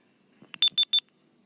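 A rechargeable hearing aid gives three short, bright electronic beeps in quick succession, clear and close in an otherwise quiet room.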